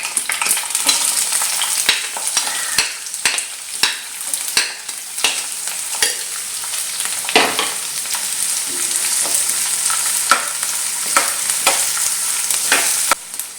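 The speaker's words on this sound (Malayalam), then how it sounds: "അതിനുശേഷം നമുക്ക് ഉള്ളി അരിഞ്ഞു വച്ചിരിക്കുന്നത് ഇട്ട് കൊടുക്കാം." Chopped onions and curry leaves sizzle and fry steadily in a hot pan for a potato stir-fry, with a constant bright crackle broken by frequent sharp clicks and scrapes of stirring, close and fairly loud with no voices.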